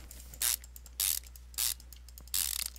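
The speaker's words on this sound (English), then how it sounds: "Drum looks pretty shot, so let's pull it." A worn brake drum comes off a Maluch in Car Mechanic Simulator 2015: four short bursts of mechanical ratcheting, evenly spaced and fairly quiet, over a low constant hum.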